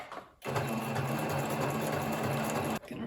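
A sewing machine stitches fabric for a beginner craft project in one steady, close, whirring run of about two seconds, starting and stopping abruptly with no talk.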